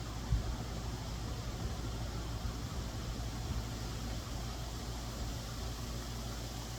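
An air conditioner condenser's compressor runs as a steady, loud broadband hum and whoosh with low mechanical drone, unchanging throughout with no talk.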